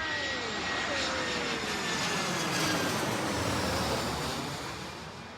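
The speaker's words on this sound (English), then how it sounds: "us waiting for an aeroplane because she's obsessed with planes, and they come over here" A passenger airplane passes overhead during an outdoor walk, its engine roar a loud, sustained drone with a slowly shifting pitch that holds steady before fading toward the end.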